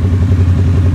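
A Harley-Davidson Sportster S rumbles loudly and close by, its exhaust giving a deep, bassy, steady idle throb.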